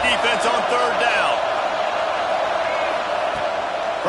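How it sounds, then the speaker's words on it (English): A packed football stadium crowd at an Auburn versus Alabama game roars loudly and continuously on a third-down defensive stand, a broad wash of noise with a commentator talking over it. "Decibels rising as the crowd gets behind this defense on third down."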